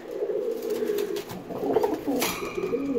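Pet pigeon cooing during aggressive driving behavior, a steady low murmuring coo that runs nearly the whole time, close and fairly loud, with a brief flutter or scuffle partway through.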